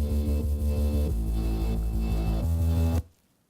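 A spooky, ringing synth tone rides inside a pop song mix over pulsing bass notes, steady for about three seconds before cutting off abruptly into near silence.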